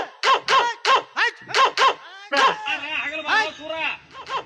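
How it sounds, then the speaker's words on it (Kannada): Dogs barking during a comedy stage play at a Ganesh festival evening show: a rapid run of close, loud, yelping barks in short bursts, then a looser, whining stretch of barks. "ಇಲ್ಲಿ ನಾಯಿಗಳು ಬೆನ್ನ ಹತ್ತಿದ್ವಾ"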